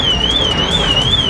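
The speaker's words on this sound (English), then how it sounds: "911 over there with the alarm going off" A Porsche 911's car alarm sounds at a cars and coffee meet, a loud steady warbling siren tone that rises and falls in slow cycles over outdoor crowd noise.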